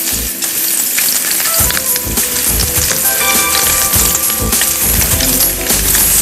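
Garlic frying in oil for Vietnamese noodles, a loud, steady sizzle close up with crackling pops and scraping stirs throughout.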